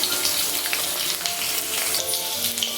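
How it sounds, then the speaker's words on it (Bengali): Thick-cut potato batons frying in oil after fish give a strong, continuous sizzle and bubbling crackle. The sound is close and steady, with a few light pops and clinks scattered throughout. "মাছগুলো ভেজে তুলে রাখার পর আলুগুলো ভেজে নিচ্ছি।"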